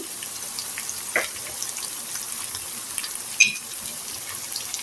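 Onions and green chilies fry in a pan for a potato and chicken-skin dish, giving a steady soft sizzle with a couple of brief clinks, close and alone.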